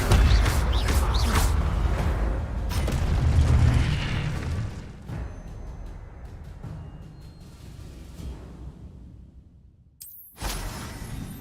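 Fire spell blasts in the video game Hogwarts Legacy, a loud dense roaring burst with crackling and whooshing that fades gradually, then a sudden brief silence and a renewed burst at the end.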